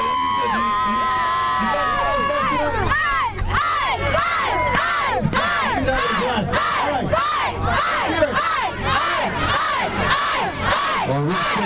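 A dense festival crowd at the Richmond Meltdown ice fights roars and cheers continuously, with overlapping shouts and whoops rising and falling close by throughout.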